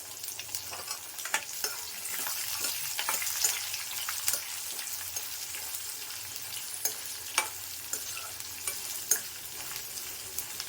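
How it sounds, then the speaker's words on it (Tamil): Shallots sizzle steadily in a hot pan while a utensil scrapes and stirs, with occasional sharp clicks and pops against the frying hiss. "நல்லா சின்ன வெங்காயம் வதங்கட்டும்."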